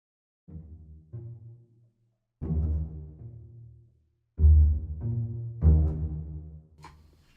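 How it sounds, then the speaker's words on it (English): Plucked pizzicato strings from Limbus Company music play short bouncing phrases in separated bursts, with low bass plucks and gaps between groups, clear and without talk. "there's also some pizzicato as well that sounds like this."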